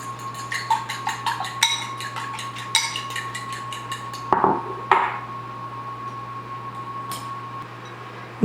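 Egg wash gets whisked in a bowl, making a rapid series of light clinks and taps that slow into a few louder knocks, close by over a steady background hum.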